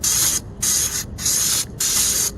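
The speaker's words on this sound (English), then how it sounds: "I just gonna spray on the air intake right here." Air intake cleaner is sprayed onto the air intake of a Chevrolet Express 3500 in four close, loud hissing bursts separated by short pauses.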